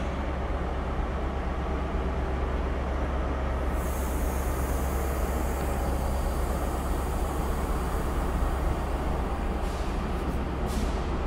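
Grand Central train at York station, a steady continuous rumble and hiss of an idling diesel on the platform, with a brighter high-pitched whine joining partway and short higher bursts near the end, no voices.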